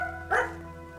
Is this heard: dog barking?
yes